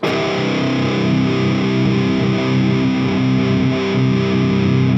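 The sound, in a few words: high-gain guitar amplifier tone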